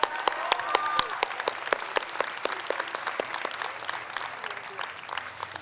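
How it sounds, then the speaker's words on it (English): Applause from a convocation audience at the University of Iowa fills a large hall, dense and steady with sharp individual claps standing out, gradually thinning toward the end; no talking. "Let's give Grace another round of applause."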